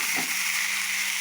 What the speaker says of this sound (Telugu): ఈ రెండు ఇందులో ఫ్రై అయిపోతాయి అనమాట